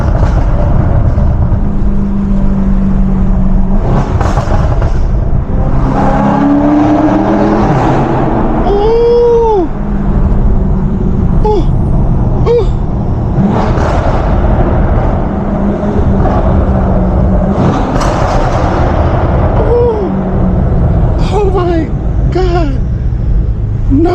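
A tuned 640 hp BMW M550i on a late-night drive, its exhaust roaring loud and constant through hard acceleration pulls, with brief chirps and pops between, while people in the cabin talk and shout over it.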